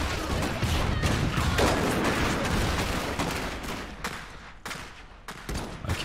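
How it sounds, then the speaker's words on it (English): Heavy machine gun fire in the Iron Harvest 1920+ video game, a continuous dense battle roar of rapid gunfire and blasts, loud and sustained with sharp bursts toward the end, no speech over it. "Heavy machine gun."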